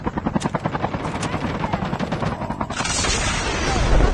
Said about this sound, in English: Oh, we have a chopper.